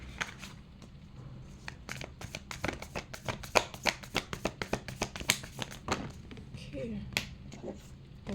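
Tarot cards being shuffled and handled make rapid crisp flicks and snaps close up during a pick-a-card reading, with rhythmic bursts peaking midway, over a low background hum.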